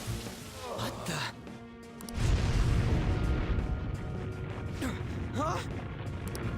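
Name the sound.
explosion in video game Persona 5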